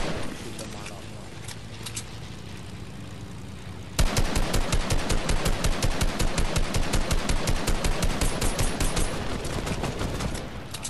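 Rapid automatic gunfire in a video game starts abruptly partway through and continues as a loud, dense rattle of shots, with quieter game sounds before it and players talking over the action.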